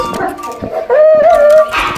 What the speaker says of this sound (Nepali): यहाँ त कुकुरहरू छन् फेरि हेर्नु न पपी